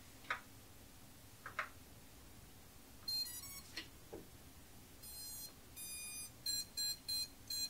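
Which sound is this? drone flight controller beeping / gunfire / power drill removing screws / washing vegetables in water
drone flight controller beeping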